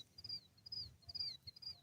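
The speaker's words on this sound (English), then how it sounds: "I don't know if you guys can hear all the birds chirping." Several birds chirp outdoors on a quiet morning, short high tweets repeating every half second or so over a soft low rumble, faint and somewhat distant.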